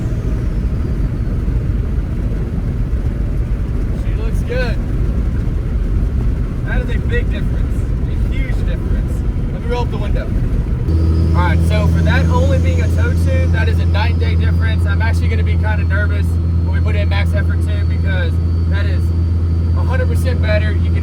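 A tuned second-generation Cummins diesel pickup with a Quadzilla Adrenaline tune drives along. Its low engine drone grows heavier and steadier about halfway through, under continuous talking from inside the cab.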